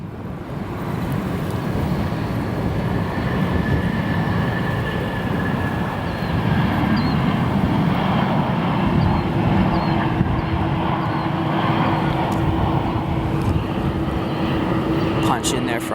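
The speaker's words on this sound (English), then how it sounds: "it's always a treat to get that MD-11 here at O'Hare" A McDonnell Douglas MD-11 airliner landing at O'Hare airport, heard as a broad, steady roar of jet engines with a low drone that holds at an even loudness for the whole stretch, with no speech.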